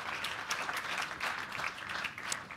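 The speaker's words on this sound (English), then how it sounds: "Let's give a big round of applause to Jeffrey and Kathi." Faint, steady applause from a conference audience at the close of a clinical care session, a soft continuous patter of many hands heard from a distance, without any voices.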